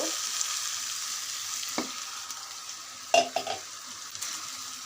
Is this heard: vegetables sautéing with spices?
yes